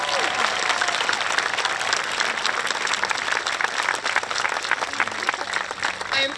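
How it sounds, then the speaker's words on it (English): A graduation ceremony audience at Eastchester High School gives dense, sustained applause that stays loud and even from start to finish, with a faint voice partly audible beneath it. "Please join me in giving a heartfelt round of applause for Dr. Capuano."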